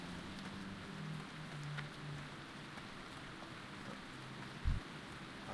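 Rain falls in the online game Turtle WoW, a faint, steady patter with a low rumble running under it and a brief thump near the end, with no voices.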